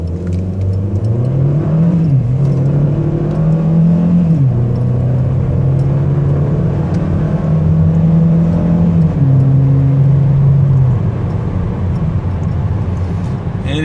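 A 2011 Chevrolet Cruze LT accelerates at night, its engine note climbing in loud steady pulls heard from inside the car, easing off and rising again, with gear-change dips along the way.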